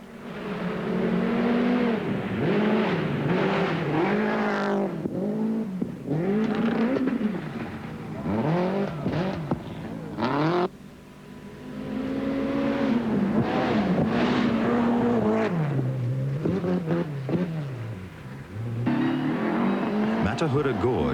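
A 1991 Rally New Zealand car at full throttle on a gravel stage, its engine rising and falling through gear changes at a loud, close, sustained pitch, with commentary talking over it.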